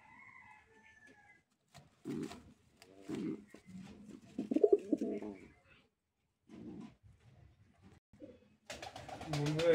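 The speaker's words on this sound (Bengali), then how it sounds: "এটা আরেক জোড়া কবুতর দেখতে পাচ্ছেন" Pigeons at a farm keeping Indian Lotan, Mayuri, Jacobin and racer breeds coo in short, intermittent bursts separated by quiet gaps, with a brief louder flurry of sound at the end.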